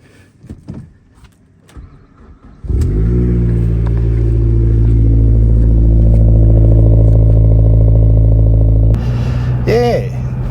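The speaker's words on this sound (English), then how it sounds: "Cold start." A Mazda MPS engine cold-starts after a few quiet knocks, then settles into a loud, steady high idle close by, before a couple of sharp revs near the end.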